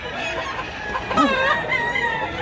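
Chickens and roosters at a poultry market in Mantalungon, Cebu: a nearby rooster crows once amid clucking fowl and a low murmur of market background.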